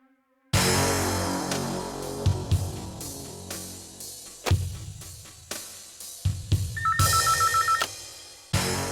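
An old-style telephone bell rings loudly and close in a Tamil TV serial, in repeated bursts with a brief electronic trill near the end and no talking.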